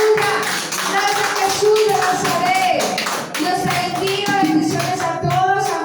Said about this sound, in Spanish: démosle un aplauso a nuestro Rey de Reyes